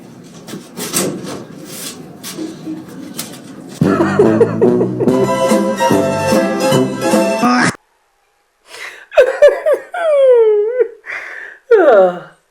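A dog wanting to go out the door lets out several high, gliding whimpers in short bursts near the end, following a stretch of rubbing, scraping and tonal household noise.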